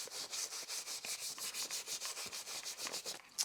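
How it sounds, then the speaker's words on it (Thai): A brush scrubbing a dirty sneaker clean, moving back and forth in quick regular strokes. The bristles give a close, steady rasping rhythm at moderate loudness, with no talking. "ขัดง่ายๆนะฮะ ก็คือขัดแบบหมุนทวนก็ได้หรือขัดแบบทั่วไปเงี้ย"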